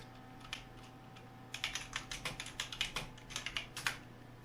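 Quick clicking keystrokes on a computer keyboard during a Minecraft session, a fast irregular patter of faint, close taps over a low steady hum, without any voice.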